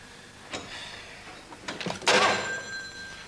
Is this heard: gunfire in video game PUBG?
no